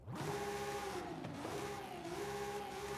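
A video game car engine revs and climbs in pitch, drops briefly, then rises again, loud and close with a smooth synthetic tone.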